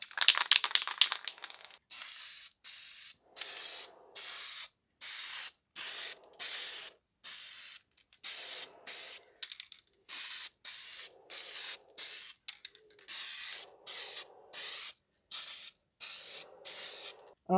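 A spray can puts lacquer on a guitar in a series of about a dozen short, even bursts of hissing spray, each stopping cleanly before the next, close and moderately loud.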